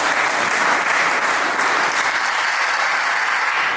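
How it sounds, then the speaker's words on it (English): Loud, dense applause from a large crowd at a cultural day celebration, steady and unbroken with no voices standing out. "We clap for Father"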